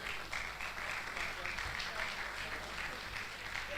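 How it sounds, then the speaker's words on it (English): A crowd applauding at a university medical and dental induction ceremony, steady dense clapping held through the whole stretch, moderately distant, with voices mixed in. "A round of applause for the VC of the University of Ibadan"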